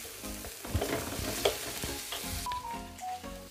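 Saffron threads and paprika fry in a pan while being stirred, with a close, steady sizzle, scraping and clinks of a utensil against the pan, and no talking.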